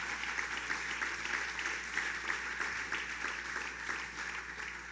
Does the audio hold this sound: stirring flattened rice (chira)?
no